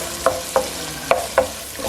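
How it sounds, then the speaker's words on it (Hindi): Onions fry in a pan, with a soft sizzle beneath four or five evenly spaced scraping stirs, close and moderately loud. "प्याज को हम फ्राई करेंगे और इसको ब्राउन करना है।"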